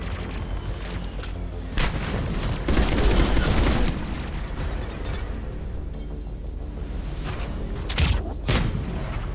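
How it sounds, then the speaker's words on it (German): Grenade explosions in the Mass Effect 3 video game, heavy booms bursting among dense, continuous gunfire and battle noise, loud and close, with a few sharper blasts standing out. "schon wieder eine Granate"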